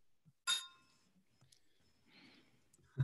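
Glasses of chocolate stout clinking together in a toast, one bright close clink followed by faint quiet rustles and a soft thump at the end.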